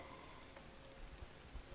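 Rain falls steadily in a dense, even hiss with occasional heavier drops, continuous throughout the short stretch, with no talking.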